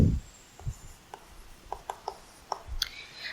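Chalk or marker scratches on a board during a physics lesson, a series of short, sharp strokes and taps at close range with brief pauses between them, and no talking over the writing.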